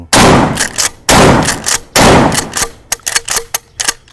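A Remington 870 pump shotgun fires three loud, booming blasts about a second apart, followed by a string of sharper metallic clacks and knocks, with no voices.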